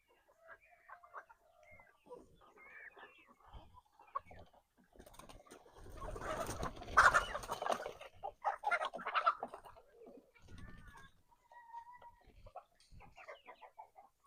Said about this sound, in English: Rooster Mike calling the hens over.